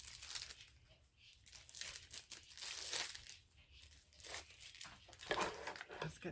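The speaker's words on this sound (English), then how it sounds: "Oh, it's all wrapped up. Okay, let's get it unwrapped." Plastic packaging crinkling and tearing as a Temu gooseneck lamp is unwrapped, close and fairly loud in surging bursts with short pauses between handfuls.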